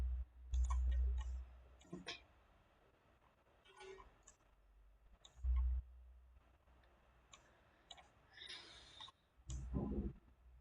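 Mouse clicks while working in Rhino modeling software, sparse sharp ticks scattered between quiet gaps, close and faint, with low thumps and soft murmuring voice in places.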